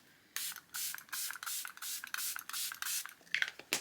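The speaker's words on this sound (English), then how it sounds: "that's why I love to go in with a mist" A facial mist spray bottle pumped about nine times in a steady rhythm, each short hissing burst close and fairly quiet, with no talking.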